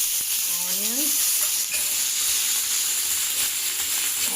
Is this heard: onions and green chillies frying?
yes